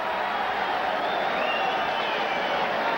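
A boxing arena crowd for Julio Cesar Chavez vs Jose Luis Ramirez roars and cheers in a dense, continuous wash of noise that holds steady and loud throughout.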